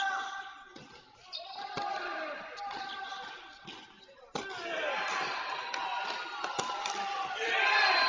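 Spectators at an indoor college men's team tennis championship cheer. The noise swells sharply after a ball strike midway and stays loud, with a commentator speaking over it.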